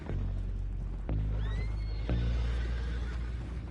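Horses whinny in the Red Dead Redemption video game, two or three rising and falling neighs over a steady low rumble, with faint hoof clops and no speech.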